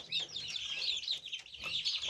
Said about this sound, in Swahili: kawaida vifaranga wa bata mzinga huwa wanatoa hizi sauti unazozisikia kama wanajisikia kiu na pia wanajisikia njaa